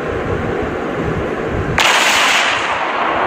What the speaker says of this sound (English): That is one big amazing firework.